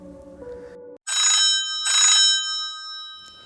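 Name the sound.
phone ringing, sound effect in audio story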